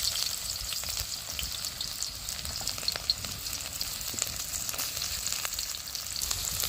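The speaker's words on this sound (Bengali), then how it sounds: "তেলটা গরম হয়ে গেছে, আমি পেঁয়াজ কুচোগুলো দিয়ে দিচ্ছি।" Chopped onions hit hot oil in a wok for a bitter melon dish, giving a steady, close, even sizzle and crackle with faint stirring that holds unbroken throughout, no voices.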